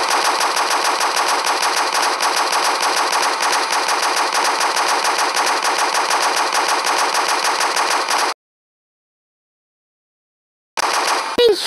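Sustained rapid gunfire from a guns mod in Minecraft PE fills the first eight seconds, loud and steady, then cuts to silence before a short final burst.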